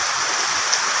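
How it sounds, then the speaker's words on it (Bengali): Steady rain falling across the Matuail area of Jatrabari in Dhaka city, a dense, even hiss of drops with no breaks, loud and close throughout. "ঢাকা শহরে আল্লাহর রহমতের বৃষ্টি"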